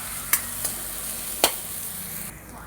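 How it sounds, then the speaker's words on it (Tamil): Fennel, onion, green chili, ginger and curry leaves sauté in hot oil with a steady close hiss, broken by a few sharp spatula scrapes against the pan. "இதையும் சேர்த்து நம்ம வதக்கிக்கலாம்."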